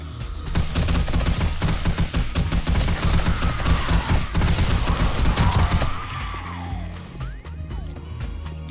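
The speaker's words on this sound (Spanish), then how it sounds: "Venga, ametralladora." Sustained automatic gunfire from a machine gun in the survival video game 7 Days to Die, dense rapid bursts loud and close for about six seconds before easing into quieter game ambience.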